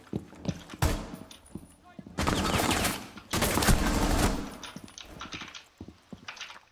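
Gunfire in the tactical shooter Rainbow Six Siege: several loud, dense bursts of rapid shots, close by, separated by short gaps, with a voice talking between them.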